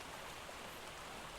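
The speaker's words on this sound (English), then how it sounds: "there's a bug in Crystal Isles right now that makes it constantly rain" Steady in-game rain from the ARK: Survival Evolved Crystal Isles map, where a bug keeps it raining constantly; a soft, even hiss of falling drops without pauses or voices, fairly quiet and continuous throughout.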